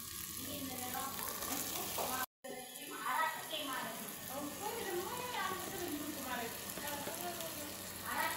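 Tomato goes into a hot pan while cooking warak enab, and a soft continuous frying sizzle runs beneath a voice talking, broken once by a brief cut near the middle.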